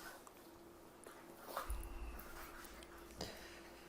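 Two dogs fighting and playing with each other, with low growls and scuffling plus a brief whimper, fairly faint and close, with no talking.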